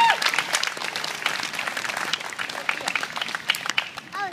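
Crowd applause at an outdoor rally demanding RSPCA accountability, dense clapping with scattered sharper claps and some voices mixed in, sustained through the whole stretch.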